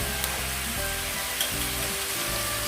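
Minced pork larb being stir-roasted in a pan sizzles and crackles steadily, with a spatula scraping and stirring at a regular rhythm, close up and with no talk.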